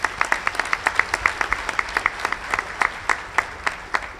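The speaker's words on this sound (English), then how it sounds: "Give them a round of applause." An audience applauds at a county State of the County event, a sustained burst of many hands clapping in a hall, fairly loud and steady with distinct individual claps standing out.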